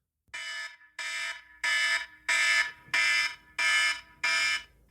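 A loud fire alarm sounds in seven evenly spaced, sustained electronic blasts with brief gaps between them.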